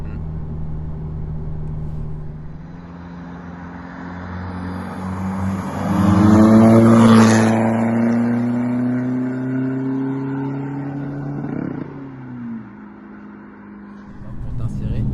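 A chipped VW Golf 5 2.0 TDI diesel accelerating on the road, its engine note climbing steadily through the revs from inside the cabin, then easing off, with people talking over it.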